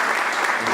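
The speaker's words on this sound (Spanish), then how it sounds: "Ese aplauso a Jesucristo." A church congregation applauds Jesus Christ during a sermon, a short burst of loud, dense clapping.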